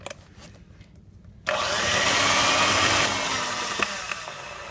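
Electric hand mixer beating white cake ingredients in a bowl, switching on abruptly after a quiet start and running as a steady, loud whir to the end.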